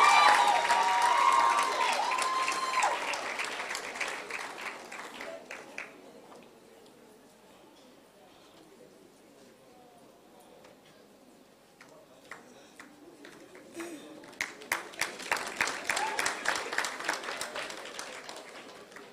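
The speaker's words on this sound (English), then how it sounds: "appreciate her, applaud her" Audience applause at a nursing induction ceremony hall, a dense burst of many people clapping that fades to near silence, then swells again into a second loud round, with a few faint murmurs.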